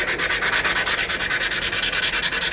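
A forged steel hamon blade is sanded by hand in quick, even back-and-forth strokes, a close, steady rhythmic scratchy rasp with no talking.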